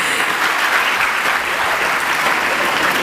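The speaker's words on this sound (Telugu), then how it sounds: "మీరు ఇప్పుడు చప్పట్లు కొట్టారు" Dense, even applause from a congregation at a Telugu Christian sermon, many hands clapping together at a steady loud level for a few seconds, with no voices on top.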